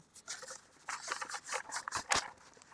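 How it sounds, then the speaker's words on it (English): Quick papery riffles and soft flicks repeat close by as a deck of cards is shuffled, with a sharper snap near the end. "We're going to do some shuffling."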